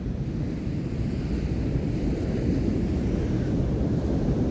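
Heavy surf pounds a rough, dangerous beach in a continuous roar of breaking ocean waves, with strong wind buffeting the microphone throughout.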